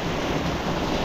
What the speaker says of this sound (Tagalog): paghampas ng hangin yan